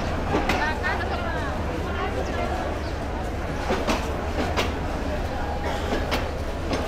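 A Dewanganj commuter train runs with a dense, continuous rumble and intermittent sharp clicks of wheels over rail joints, loud and close, while voices murmur faintly underneath.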